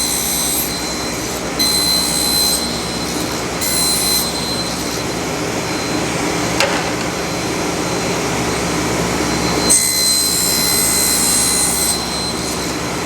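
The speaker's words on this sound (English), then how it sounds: "I'll just set up my table saw sled here and make some cuts" A table saw with a sled cuts plywood, giving a loud, steady motor roar with a high whine that swells during cuts and keeps running throughout, with no talking.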